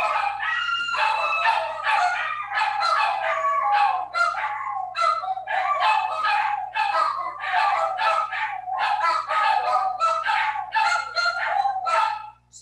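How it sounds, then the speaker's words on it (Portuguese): Street dogs barking and howling in a dense, overlapping chorus, loud and close, continuing almost without pause for about twelve seconds before cutting off. "tá um barulho muito forte aqui por causa dos cachorros da rua"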